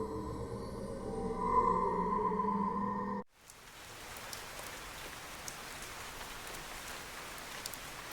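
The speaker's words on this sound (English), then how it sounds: "It was raining." Steady rain patters in the video game Fantasian Neo Dimension, a dense, even hiss of drops with faint scattered plinks that takes over once the music cuts off and continues alone at moderate volume.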